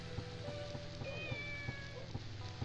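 A cat meows in the video game Shenmue, with thin, drawn-out tonal calls over a steady rain-like hiss and a soft, regular low thumping.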